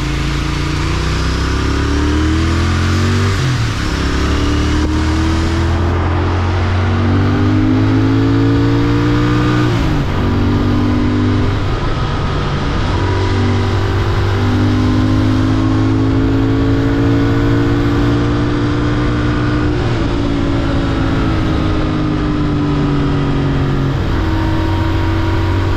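Royal Enfield Interceptor 650 motorcycle accelerating hard through several gears, its engine revving up in repeated rising sweeps with brief drops at each shift, loud and continuous from the rider's position, no talking.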